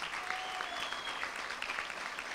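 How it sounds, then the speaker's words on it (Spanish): A school event audience applauds a group of students, a fairly quiet but continuous crackle of many hands clapping with no talk over it. "hay que darle un fuerte aplauso a estos pibes y pibas que se pusieron la camiseta"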